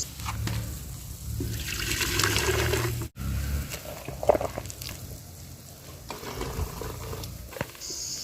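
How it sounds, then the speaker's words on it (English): Boiled water pours into a kettle in a rural Ugandan kitchen while ugali is being made, a running, splashing stream that rises in loudness, cuts off briefly, then resumes with clinks and small knocks. "he'll take some water and keep it in the kettle"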